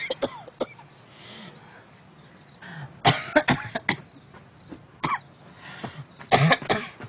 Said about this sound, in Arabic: انا طول عمري بكح